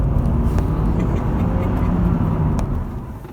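Honda Accord with a 2.4 litre K24 i-VTEC DOHC engine driving along, a steady low engine drone with road and tyre noise, fairly loud and close from inside the car, with no talk.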